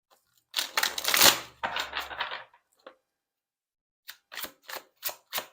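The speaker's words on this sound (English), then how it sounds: "I'm going to shuffle one more time." Tarot cards are shuffled with a loud riffling burst, then a shorter second riffle, a small tap, and a run of five crisp separate card snaps after a pause, all close and with no voices.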